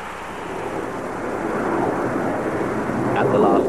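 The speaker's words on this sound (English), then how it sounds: "The pilot of this Boeing 737 knew that he had to bring the plane in" Boeing 737 airplane approaching to land with one set of wheels stuck folded, a broad rushing roar that slowly grows louder, with a voice speaking over it.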